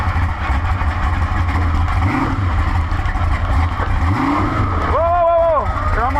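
A barn-find muscle car with its engine on the mufflers is gunned in reverse, a rough, loud engine roar with a rising rev near the end, while people talk nearby.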